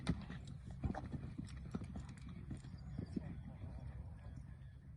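Horses' hooves thud in uneven clip-clops during show jumping training, with scattered moderately distant hoofbeats over a quiet outdoor background.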